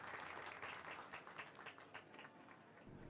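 Applause in a video game from a group, with individual claps standing out as the clapping thins slightly toward the end.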